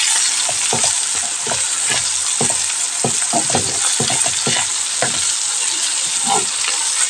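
Peppers frying in a pan, giving a loud, steady sizzle with frequent small crackles and pops throughout, close up and with no talking.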